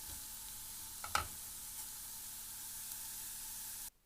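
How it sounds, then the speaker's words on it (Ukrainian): Liver frying in oil in a pan makes a steady, close hiss of sizzling, with a brief clack of stirring early on. The sound cuts off abruptly near the end. "Далі обсмажуємо печінку на олії."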